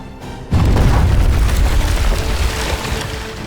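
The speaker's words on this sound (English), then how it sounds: "With unmatched siege technology, including the fearsome Great Bombard, the Ottomans pounded the walls relentlessly." A single heavy boom from the Ottoman Great Bombard cannon pounding city walls, a sudden loud blast that rolls into a long, rumbling low decay lasting several seconds.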